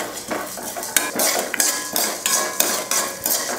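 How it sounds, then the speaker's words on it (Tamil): A spatula scrapes and clatters against a metal pan as toor dal is dry-roasted until golden, with repeated rhythmic scraping strokes and sharp clinks close by. "இதையும் நல்லா மணம் வர வரைக்கும் நல்லா பொன்னிறமாக வறுத்துக்கலாம்"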